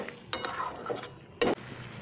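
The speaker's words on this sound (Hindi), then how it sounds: "पनीर को भी हम 2-3 मिनट हल्के हाथ से भूनेंगे" Soft paneer cubes and peas are gently stir-fried in a pan, with a few spatula scrapes and a brief metallic clink over a low sizzle, no talking.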